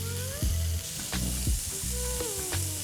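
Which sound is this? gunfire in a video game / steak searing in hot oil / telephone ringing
steak searing in hot oil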